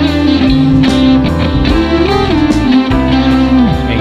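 Electric guitar plays a short, simple lyrical melody phrase of sustained, gliding notes with bends, loud and continuous over a full backing, with no talking.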